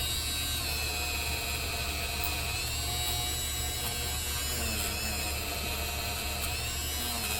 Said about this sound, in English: And then I'm going to polish up the wheel.